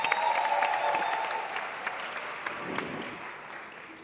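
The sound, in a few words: conference audience applause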